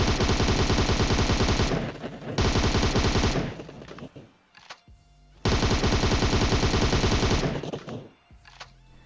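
Sustained automatic gunfire in the PUBG Mobile video game, two long loud rapid bursts separated by a short pause and a few isolated shots, no talking.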